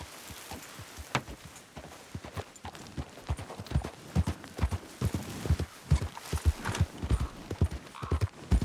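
A horse's hooves clop along in Red Dead Redemption 2 on a ride from Blackwater to Tumbleweed, a steady rhythmic gait of close, distinct hoofbeats that grows louder and busier over several seconds.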